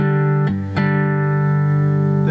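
Sustained blues chords on a fretless guitar, played slide-style. Rich harmonic tones ring steadily with two quick chord strikes near the start, moving to new chords alone without voices.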